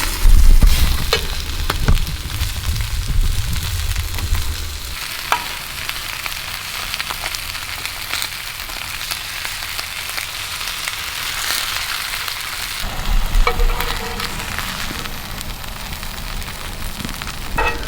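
Fresh tailor fish coated in flour frying in a pan on a beach, a loud, continuous close sizzle and crackle with occasional stirring clatter.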